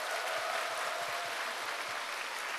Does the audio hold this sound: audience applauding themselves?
yes